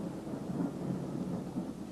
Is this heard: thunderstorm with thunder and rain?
yes